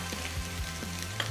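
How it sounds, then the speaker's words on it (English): Minced onions frying in hot oil in a pan, a steady close sizzle with crackling pops and faint stirring scrapes. "we're going to saute some of these beautiful onions in this hot oil"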